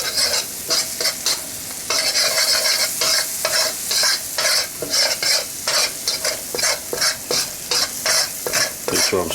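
Utensil scraping and stirring chicken in a pan with a dry, rhythmic clatter of repeated strokes over a steady sizzle, close and loud, with no talking.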